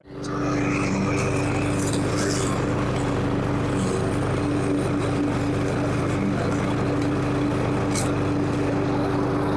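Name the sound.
lawn mower mowing grass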